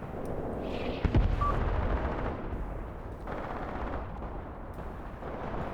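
Machine gun fire in the WWII tactics game Graviteam Tactics, a sustained rattle of distant automatic bursts with a sharper, louder volley early on and continuous battlefield rumble throughout.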